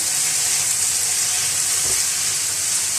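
Chopped tomatoes fry in a pan right after garlic for arbi ki sabzi, giving a dense, continuous loud sizzle close by with no talk.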